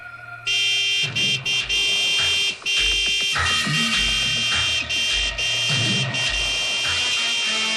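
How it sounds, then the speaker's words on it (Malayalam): A loud, sustained horn blares almost continuously, with a few brief breaks, over low rumbling from a nearby vehicle. "നീ ഹോണടിച്ച് വണ്ടി വിട്"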